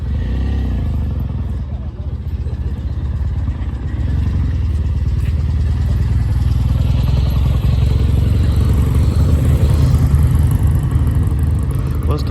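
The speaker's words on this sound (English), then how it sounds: "BMW R100 again." A BMW R100 motorcycle engine runs steadily nearby, a loud, low, continuous rumble with a rough mechanical texture that holds level throughout.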